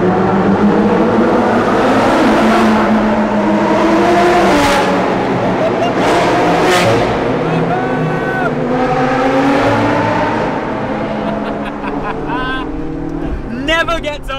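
A loud, echoing exhaust roar from a McLaren 675LT supercar reverberates in a tunnel, rising and falling as it revs, with people talking over it.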